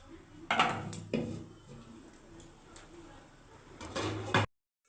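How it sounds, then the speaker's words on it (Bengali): A lid is placed on a cooking pot of Bengali prawn malai curry simmering with coconut water, with a couple of close metallic knocks and clatters over steady kitchen noise, a voice talking lightly. "এবার আমি 5 মিনিট ঢাকনা লাগিয়ে রেখে দিচ্ছি।"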